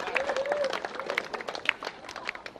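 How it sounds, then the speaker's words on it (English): A crowd claps and cheers in a busy, scattered burst of applause, with some voices mixed into the noise. "That on its own deserves a round of applause"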